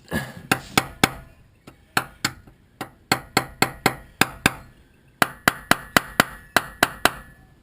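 Repeated sharp metallic blows of a big hammer striking a carburettor, delivered in quick bursts with short pauses, close and crisp.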